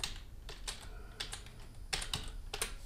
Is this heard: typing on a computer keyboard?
yes